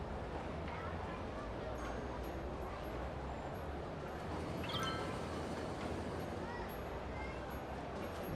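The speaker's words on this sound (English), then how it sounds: "See a train whizzing through in the background there." A train whizzes past in the background of the city-building game Cities: Skylines on PS4, a steady rushing rumble heard alone under a busy game soundscape.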